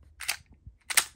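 Two sharp rifle shots from an ARP fired at a target outdoors, about 0.7 seconds apart, loud and close with quick decay and no talking.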